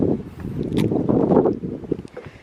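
Strong wind buffets a microphone outdoors in a garden, a steady low roar with gusting swells that rise and fall across the short stretch, loud and close.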